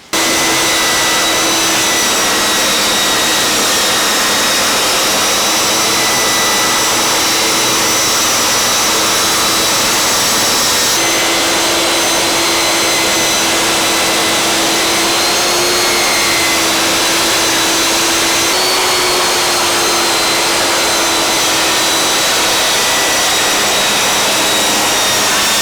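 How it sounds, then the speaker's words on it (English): A power saw cutting wooden slats for a garden memorial bench runs loud and continuous, a steady high-pitched motor whine with slight shifts in pitch as the blade works through the wood, no voices. "first job is to cut all the slats"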